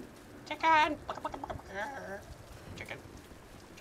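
Chicken clucking in the Tomb Raider video game, a short burst of bright, repeated clucks up close, followed by softer broken cackling over faint rain-like background noise.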